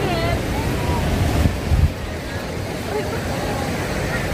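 Sea waves wash steadily against the shore, a continuous broadband surf roar mixed with gusty wind buffeting the microphone and a couple of brief louder surges midway.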